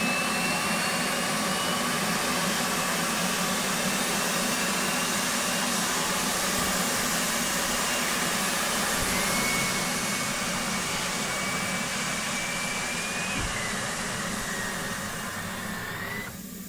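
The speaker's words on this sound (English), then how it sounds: "Turn on the APU and wait for the green ready light to illuminate." The auxiliary power unit of an F/A-18C Hornet runs in the DCS flight simulator, a loud, steady jet-like roar and whine that holds unbroken for the whole stretch, with no talk over it.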